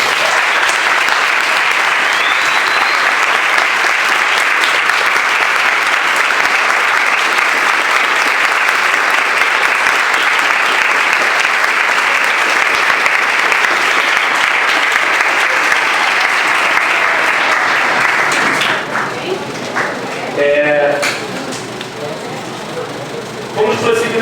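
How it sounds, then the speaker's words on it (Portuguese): Students and staff at Colégio Estadual Visconde de Itaboraí give a school impeachment debate event a long, loud, dense round of applause honouring Aunt Tânia, which fades near the end as voices return. "vou pedir aqui uma salva de palmas para ela"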